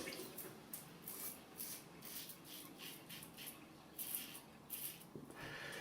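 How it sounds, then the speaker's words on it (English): Cold water runs steadily from a tap while a razor is rinsed under it, a soft hiss with a few brief splashes, close and faint, with no talk over it. "I'm going to rinse it under the tap"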